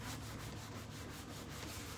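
A scrubby sanding block rubs over a surface in a steady, soft, continuous scraping rasp, faint and close, with no voices.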